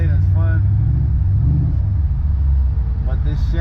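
A Ford Mustang V8 rumbles steadily while driving, a deep continuous engine drone inside the car, with a faint voice briefly rising over it near the start and end.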